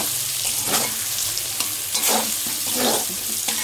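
Eggplant fries with spices in a pan, a steady close sizzle broken by the scrape and shuffle of stirring, and no talking.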